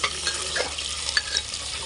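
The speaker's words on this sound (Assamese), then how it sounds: "এয়া পিঁয়াজখিনি কাটি অলপমান ভজা লগাই লৈ মাংসখিনি এড কৰিছোঁ" Goat meat sizzles and crackles in hot oil with onions inside a pressure cooker, a steady close frying hiss with a few sharp pops and soft stirring scrapes, no voices.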